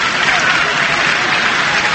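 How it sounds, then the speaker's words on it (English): Home fans applaud steadily at a Premier League football match, a dense, continuous wash of clapping filling the stadium without pause. "Brighton's efforts applauded by the home fans."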